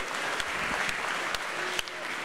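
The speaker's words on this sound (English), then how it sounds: "I say Moor and then applause" Audience applause at a comedy show during a gala dinner: a steady wash of clapping for a couple of seconds, with a few sharper, nearer claps standing out.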